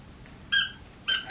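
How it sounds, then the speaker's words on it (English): Rubber ducky squeezed at a book event, giving two loud, sharp, high squeaks separated by a short pause, with quiet background murmur between. "It squeaks."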